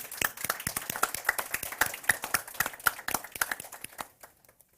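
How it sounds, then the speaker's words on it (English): Sharp, distinct handclaps from a small audience at a discussion on human rights violations in Taliban-ruled Afghanistan, ringing out clearly for several seconds before quickly tapering to a few final claps. "I think that deserves a round of applause"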